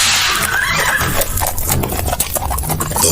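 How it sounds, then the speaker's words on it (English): Carriage horses neigh and rear up in a loud, busy scene, a whinny standing out over dense hoof and movement noise with no speech. "The horses reared up and broke into a gallop."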